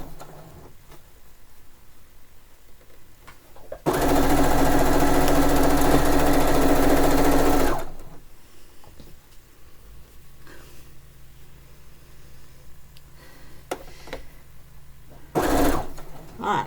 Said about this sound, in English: I'm going to sew and not chatter so much